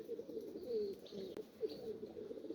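A male pigeon coos in soft, low, repeated phrases, close and fairly quiet, the rolling calls spaced through a brief stretch.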